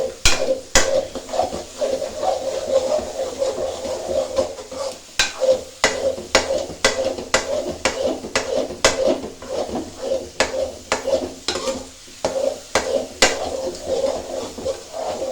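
A spoon stirring sonth halwa in a pan, giving a steady series of close scraping and clinking strokes against the metal, repeated rhythmically, with a low cooking hiss beneath.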